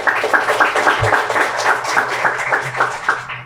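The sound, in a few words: audience applause for student of the month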